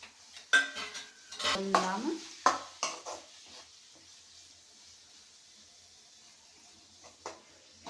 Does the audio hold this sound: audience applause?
no